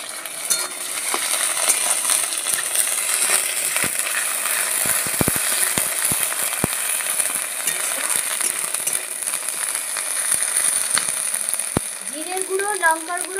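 Ginger-garlic paste goes into a pan of onions fried red for chital kalia fish curry, giving a loud, continuous close sizzle with faint stirring ticks and a voice briefly at the end.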